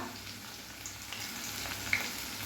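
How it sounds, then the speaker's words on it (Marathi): Onion sautéing in hot oil with bloomed cumin for Marathwada-style misal, a steady soft sizzle with faint crackles, close and continuous, no voices. "आणि जिरं छान फुललं की मग यामध्ये कांदा घालायचा आहे."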